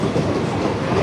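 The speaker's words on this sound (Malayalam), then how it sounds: "നമ്മുടെ സബർബൻ ട്രെയിൻ ഛത്രപതി ശിവജി ടെർമിനലിൽ നിന്നും യാത്ര പുറപ്പെട്ടിരിക്കുവാണ്." A Mumbai suburban train leaving Chhatrapati Shivaji Terminus gives a close, continuous rolling rumble with a faint rhythmic clatter of wheels, brief and steady.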